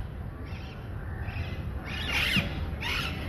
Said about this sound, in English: No, they are not my parrots